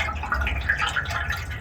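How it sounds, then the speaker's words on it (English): Blue tank coating liquid glugs and splashes as it is poured into the fuel tank of a classic Honda CB125 or CB360 motorcycle, a short close sloshing pour without talk. "I'm going to pour it into the tank"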